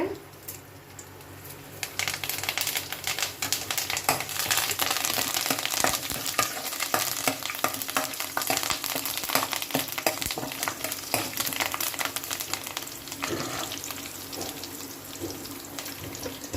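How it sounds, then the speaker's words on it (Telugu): Urad dal frying in a pan for a raw tamarind chutney, giving a steady loud sizzle and crackle with occasional stirring scrapes, running continuously for the whole stretch. "నెక్స్ట్ మినపప్పు బాగా వేగినాక కరివేపాకు వేసుకుందామండి"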